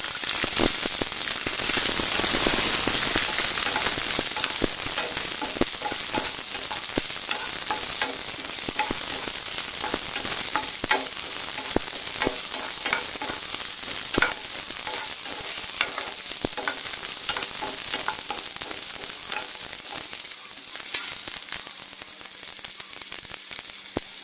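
Indian gooseberries (amla) sizzle and fry in a pan while being stirred, a loud continuous crackling hiss with scraping stir strokes throughout, no voices.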